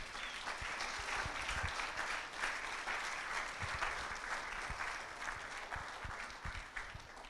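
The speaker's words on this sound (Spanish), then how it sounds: "Alguien déle una ofrenda de aplausos a Dios" A church congregation claps in sustained, dense applause that holds steady for several seconds, filling the room at moderate distance, without voices over it.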